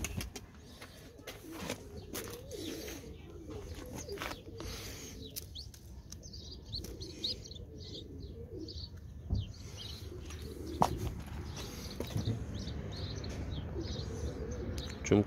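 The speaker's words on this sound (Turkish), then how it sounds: "Çün kuşları olduğu için Gökhan abi önlerine yem koymuyor" Pigeons cooing with scattered chirps and a brief flutter of wings, moderately close, over a steady low background murmur with no clear talk.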